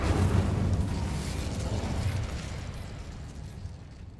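Fire spell cast in the Hogwarts Legacy video game, a loud whooshing burst of flame that roars up immediately and then slowly fades away.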